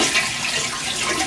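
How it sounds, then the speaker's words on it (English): Toilet flushing during plunger cleaning, a steady rushing wash of water lasting the whole moment, fairly loud and close, with no talking. "just flush the toilet."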